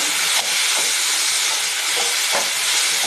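Dried chillies roasting and being stirred in a pan for a village-style jilebi fish curry: a loud, continuous dry hiss and rustle, broken by a few scraping strokes, with no talk.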